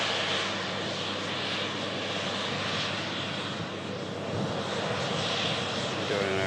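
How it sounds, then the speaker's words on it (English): An airliner landing near an airport runway gives a steady, broad engine roar that holds loud and constant throughout, with no clear speech over it. "We've got an aircraft about to touch down as well."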